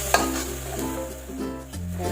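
Sweet and spicy sauce of palm sugar, salt, chili powder, stock and tamarind water sizzling and stirred in a pan for spicy wontons, a steady close bubbling hiss with a brief scrape.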